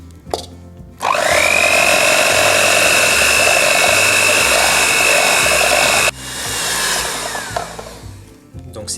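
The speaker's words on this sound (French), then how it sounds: "je vais maintenant l'incorporer tout en fouettant à mon mascarpone" An electric hand mixer whisks gelatin cream into mascarpone for a tiramisu Christmas log, a loud steady whine that starts abruptly, holds for about five seconds, then cuts off and trails into quieter stirring.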